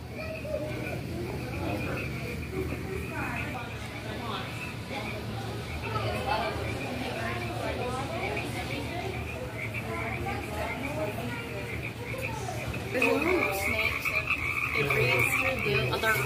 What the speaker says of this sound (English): Bullfrogs down here.